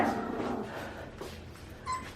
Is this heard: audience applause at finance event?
no